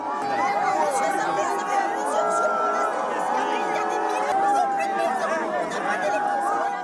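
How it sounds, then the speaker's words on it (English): A crowd reacts noisily in an outdoor gathering in the Indian Ocean region, many overlapping raised voices and shouts forming a dense, continuous babble of jeering with no single speaker standing out. "His remarks were met with jeers from the crowd."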